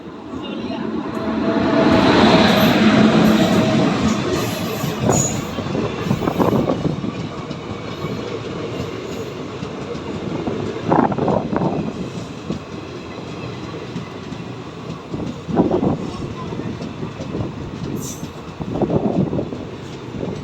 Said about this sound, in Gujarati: ભાવનગર સુરેન્દ્રનગર ટ્રેન હતી